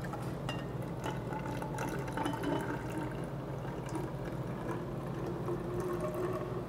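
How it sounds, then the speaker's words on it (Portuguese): Distilled water is poured into a laboratory graduated cylinder, a steady faint trickle and fill over a low background hum, with no talk during the pour. "Então, vou acrescentar a água destilada."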